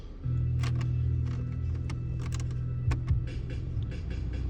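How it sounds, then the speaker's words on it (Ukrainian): A 2008 Suzuki Grand Vitara with a two-litre engine running steadily just after starting, a low even idle hum that holds throughout at close range, with a few faint clicks over it. "Зараз спробуємо завести."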